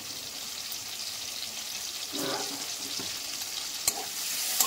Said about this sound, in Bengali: সব একসাথে দিয়ে ভেজে নেব। আর এখানে 4 পিস লঙ্কা দিয়ে দিলাম